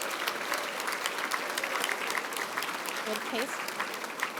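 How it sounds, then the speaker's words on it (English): An audience at an award ceremony applauds the nominees, filling the room with a sustained burst of dense clapping, while a voice briefly speaks over the noise. "Can I please have a round of applause for our first group of nominees?"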